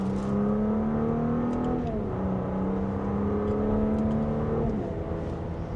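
An Audi SQ5 in dynamic mode accelerating in second gear, its engine note rising smoothly in pitch, dropping briefly at a gear shift, then climbing again, steady and close from inside the cabin, no talk.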